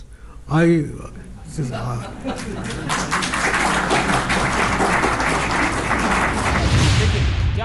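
An audience bursts into sustained applause, building from scattered claps into a dense, steady roar of clapping that swells toward the end, after a brief voice at the start.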